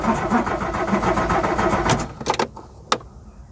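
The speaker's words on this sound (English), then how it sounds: "let's see if he'll turn over" A classic Volkswagen Scirocco engine cranks over with a steady grinding churn, then stops, followed by a few sharp clicks in the quiet.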